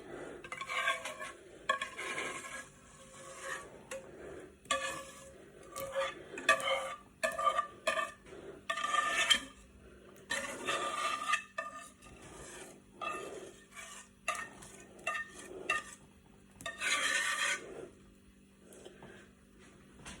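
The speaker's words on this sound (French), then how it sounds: "Donc on va ajouter la béchamel, comme ceci." Thick béchamel being stirred into a chayote gratin mixture with a spatula, giving repeated wet scraping and rasping strokes against the dish in irregular bursts, close and fairly loud with no talking.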